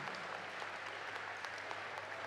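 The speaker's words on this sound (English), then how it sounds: "a big round of applause to all the participating teams for their fantastic efforts and enthusiasm" A school audience claps for the quiz competition teams, a steady, fairly quiet patter of many hands heard at some distance, continuous across the short stretch.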